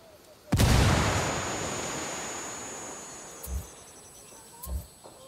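A grenade explodes in Ghost Recon Wildlands, a sudden loud broadband blast that decays over a few seconds into a long rumbling tail, followed by two smaller distant thumps, with a thin high tone ringing throughout.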